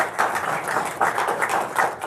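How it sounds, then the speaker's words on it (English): An audience at a Tehachapi city council meeting applauds, a steady, dense patter of many hands clapping at even loudness, heard from within the room. "I think a nice round of applause is probably in order."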